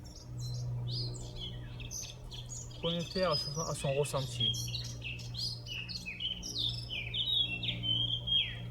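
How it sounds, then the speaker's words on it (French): Birds chirp and tweet steadily in an outdoor setting during a guided yoga and meditation session, many small calls overlapping throughout while a soft voice speaks briefly, over a low continuous hum. "Connecté au chant des oiseaux"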